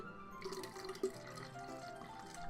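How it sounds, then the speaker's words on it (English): Water from a tap runs into a water bottle with a low steady trickle and a few small drip-like splashes, fairly faint against a humming background. "Hold on, I'm filling up my water bottle."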